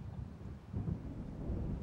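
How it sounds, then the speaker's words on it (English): Low rumbling thunder of an approaching storm in the video game Alan Wake, a steady distant roll with wind and faint rain-like noise, swelling slightly partway through. "It seems there's a storm coming."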